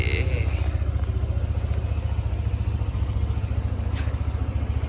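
A Yamaha Nmax 155 scooter engine runs at a steady idle, making a rhythmic low thrumming pulse with faint rattly clatter, heard up close throughout.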